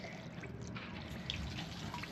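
Seawater trickles and drips into a boat toilet bowl, a faint, steady liquid wash with small dripping plinks, heard up close with no talking.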